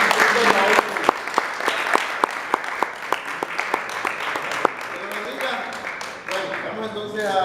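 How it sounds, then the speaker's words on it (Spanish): A church congregation claps together to welcome a speaker, with sharp individual claps standing out over a steady bed of applause and some voices. "vamos a recibir con un aplauso a nuestro hermano"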